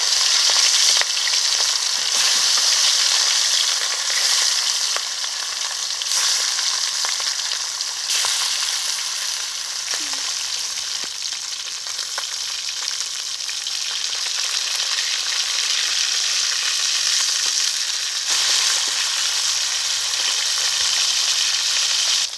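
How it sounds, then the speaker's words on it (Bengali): Fish frying in hot oil in a pan, a loud, continuous crackling sizzle that holds steady throughout with only slight swells and dips, and no voices. "মাছগুলো ভেজে নেব"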